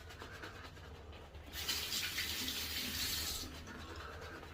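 Water runs from a tap during a wet shave, a steady broadband splash that swells louder for about two seconds mid-clip, then drops back to a softer trickle; no one speaks.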